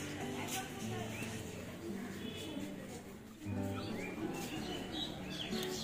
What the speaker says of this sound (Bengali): পাখির কিচিরমিচির আওয়াজ শুনতে পাচ্ছেন আপনারা?